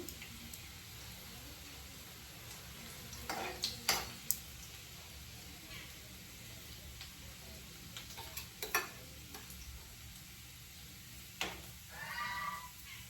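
Garlic frying in hot oil, a faint steady sizzle with a few sharper clinks and stirring scrapes scattered through, quiet and close.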